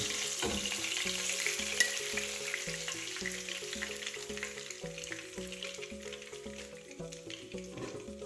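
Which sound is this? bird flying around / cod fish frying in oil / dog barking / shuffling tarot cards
cod fish frying in oil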